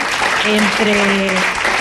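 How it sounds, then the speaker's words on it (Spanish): An audience applauds the Aragón Radio technical department, brief dense clapping that is loud and close, with a voice speaking over it. "Un aplauso, claro que sí."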